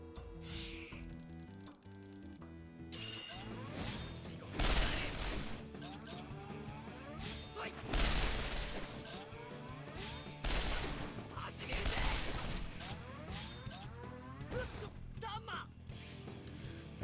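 Rapid machine gun bursts in Resonance of Fate, rattling fire mixed with game music and battle effects, under people talking.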